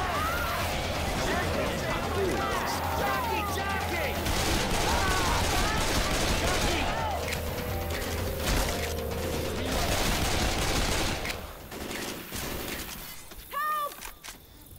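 Video game gunfire in a chaotic, noisy match, with dense bursts of shots and crashing impacts packed together, loud and near, thinning out toward the end amid other game sounds and talking.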